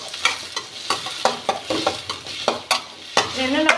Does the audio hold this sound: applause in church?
no